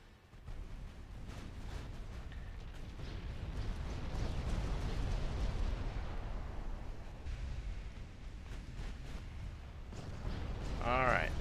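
Naval gunfire and explosions in the game Ultimate Admiral Dreadnoughts, with battleships firing, form a continuous rumbling barrage of booms and blasts at moderate distance, heard under a voice speaking.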